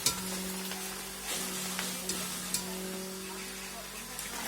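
Raw chonga snacks frying in hot oil while being slowly stirred, a continuous close sizzle with occasional sharp clicks from the stirring utensil and a low steady hum underneath.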